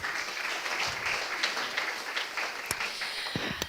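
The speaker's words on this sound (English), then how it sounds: "round of applause for Arno" Audience applause at a pediatric innovation day event in Riga, a moderate, even patter of many hands clapping that continues throughout at middle distance.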